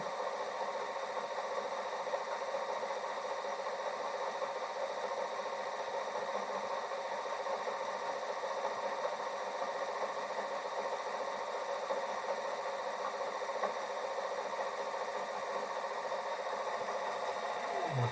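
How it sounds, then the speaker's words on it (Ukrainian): A steady electric motor hum runs continuously and evenly at a constant pitch, moderately loud, with no voices. "Так, Двигун працює."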